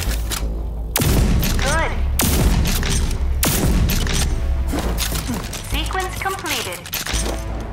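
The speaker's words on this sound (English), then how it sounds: "Use the combat shotgun's overdrive against the simulated enemies" Heavy booming shotgun blasts from a Rage 2 combat shotgun firing solid lead slugs, three big shots about a second apart over a busy game soundscape, with a voice speaking briefly.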